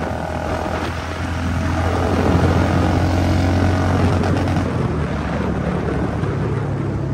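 A drone flies nearby on a mountain road trip in Nepal, giving a steady, loud mechanical buzzing drone with a humming tone that swells slightly after the first second and holds evenly, with no talk.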